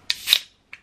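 A Monster energy drink can cracks open up close: a sharp click, then a short hissing release and a small final tick, brief and loud against silence.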